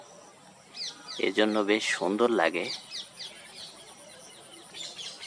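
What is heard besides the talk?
parrots calling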